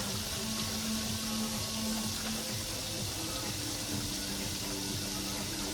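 Water runs steadily from a tap with soft clinks and splashes of dishes being rinsed, close by and fairly quiet, with no talking.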